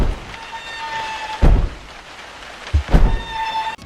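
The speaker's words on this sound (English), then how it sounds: "we begin to hear loud banging on a different door behind us" Heavy banging on a door in a Silent Hill game hallway: two loud, dull thuds about a second and a half apart, each followed by a short cluster of lighter knocks, over a faint droning ambience.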